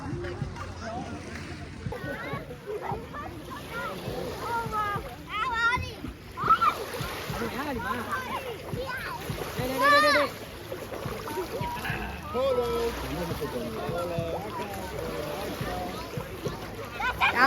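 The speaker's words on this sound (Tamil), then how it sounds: "அலை அடிக்குதுங்க, அப்ப பீச் தான்." Ocean waves splash and wash at a beach in the USA, heard as a soft, sloshing background under ongoing conversation.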